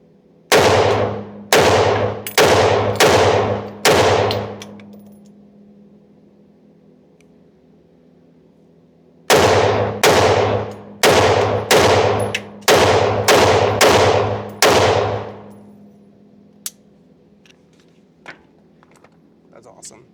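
A Bren 2 rifle fitted with a Griffin Armament Paladin suppressor fires two rapid strings of loud, close shots separated by a pause of several seconds, each report snapping sharply with short ringing tails.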